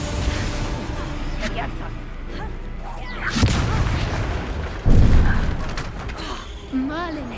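Confringo fire spells blasting in a Harry Potter video game, a few sharp booming bursts landing around 3.5 and 5 seconds amid game effects, with a whistling magical swoop near the end.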